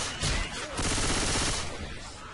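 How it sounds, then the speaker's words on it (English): Rapid gunfire from players shooting in Left 4 Dead 2, a dense, loud burst of overlapping shots running for a couple of seconds with faint voices mixed in. "Stop shooting me. Shoot Petrol! Shoot Petrol!"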